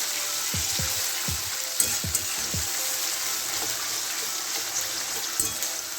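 Onion paste frying in a pan, heard as a loud, continuous close sizzle with a few low knocks and thuds from stirring scattered throughout.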